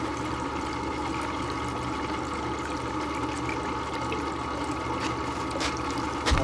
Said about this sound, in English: I'll wash out the funnel.